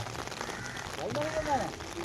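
Rain falls steadily during a boat trip through forested waters, a soft continuous patter of drops with a few brief tonal sounds rising near the end.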